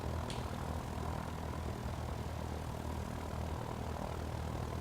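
A CubCrafters XCUB propeller plane's engine drones steadily and loudly while landing in the X-Plane 11 flight simulator, a constant broadband hum with no one talking.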